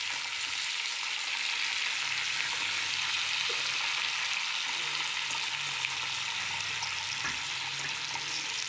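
Vegetables fry in a pan for a Maharashtrian rice kundra dish, making a constant, close sizzle with faint clinks now and then.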